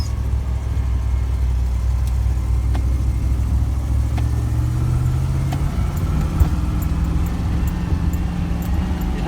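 A 1988 Land Rover Defender 130 on the move, its engine a loud, steady low rumble filling the cabin, with slight shifts in pitch as it drives.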